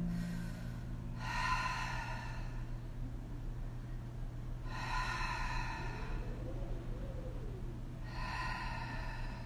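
Deep breathing during a yoga session: three slow, long breaths spaced a few seconds apart, fairly close and clear over a low steady hum, with no talking.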